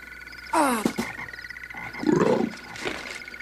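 A toad croaks in a children's fairy-tale drama, several low throaty rasping croaks in sequence, fairly close and alone without talk.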